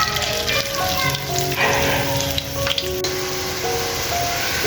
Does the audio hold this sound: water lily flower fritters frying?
yes